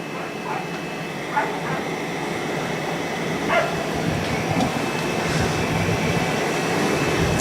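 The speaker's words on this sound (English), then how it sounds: "I hear a dog in the background" A dog barks a few times in the distance at an outdoor baseball game, faint sharp yips poking through a steady wash of background noise.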